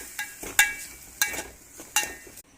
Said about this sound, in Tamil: கொஞ்சமாக காரத்தூள், தனி மிளகாய் தூள், கொஞ்சமாக மஞ்சத்தூள், நல்லா வதக்கிக்கணும்